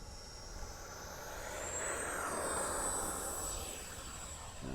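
An Avios Viper 64 6S electric RC jet plane takes off, its ducted-fan whine rising in pitch and swelling to a steady rushing roar at moderate distance before easing slightly.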